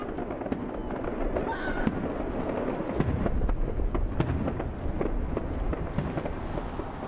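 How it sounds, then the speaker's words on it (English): New Year fireworks bursting over Athens and the Parthenon in heavy rain, a dense rumbling barrage of booms and crackles beneath a steady wash of rain, with voices talking throughout. "the fireworks went on late into the night over the Pantheon temple amidst heavy rain"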